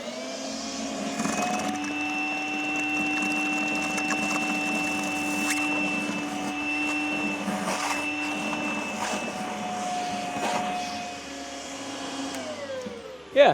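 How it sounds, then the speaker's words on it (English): A Makita 18V portable wet/dry shop vac sucks up water, its steady motor whine holding close and loud for about twelve seconds before a brief gurgling slurp and a sharp knock at the very end. "I want to try out a little bit of wet vacuuming"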